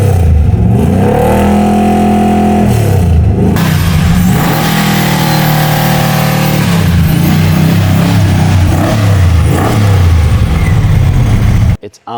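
A 1970 Dodge Challenger restomod with a 2500-horsepower engine, detuned to 1,200 horsepower on 91 octane fuel, revs loudly and continuously with rising and falling engine pitch, close up, while people talk over it, cutting off abruptly at the end.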